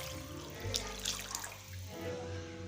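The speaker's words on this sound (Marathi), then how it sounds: "एक लोटा पाणी टाकून घेतलेला आहे मी" A pot of water poured into a chicken curry on the stove, a short soft splash and gurgle at close range, fairly quiet and alone.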